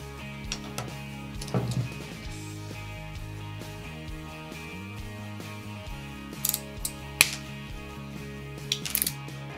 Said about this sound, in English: Now that your wires are sorted, trim them a half an inch away from the jacket.